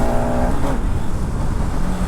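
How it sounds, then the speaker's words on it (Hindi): A Bajaj Pulsar RS200 motorcycle being ridden on the street, its engine droning steadily and loud throughout with a brief higher whine early on, no talking over it. "अपन चला रहे हैं अभी RS 200"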